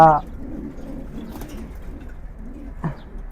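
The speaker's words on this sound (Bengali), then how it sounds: "একটা মাদি কবুতর আমি দেখাই মাদি কবুতরটা" A female racing pigeon coos in low, soft, repeated notes, with a louder call at the start and another near the end, close by and steady.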